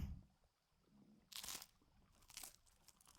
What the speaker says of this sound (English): That's some crunchy ass bread.